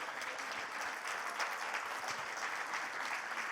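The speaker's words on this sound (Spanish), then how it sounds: "Vamos a dar un aplauso fuerte al Señor." Steady, loud applause from a church congregation during a Spanish-language Christian sermon, a dense continuous clatter of many hands sustained throughout without a break.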